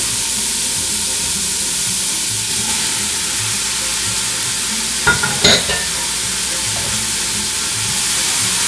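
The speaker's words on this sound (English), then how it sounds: "You don't need to give that too much time before you add your pepper and onion. And you can throw it all in." Chopped pepper and onion sizzle in a hot pan with a steady, even hiss, broken around the middle by a brief burst of clattering stirring strokes.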